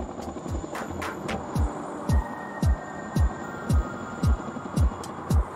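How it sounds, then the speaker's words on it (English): Big twin-rotor Chinook helicopter settling onto a hilltop peak, heard as a steady low engine hum under a regular thudding rotor beat, about two blade slaps per second, moderately loud and steady throughout. "The pilot of the Chinook flies the big helicopter down from the hill and safely balances it to land at the peak of the hill"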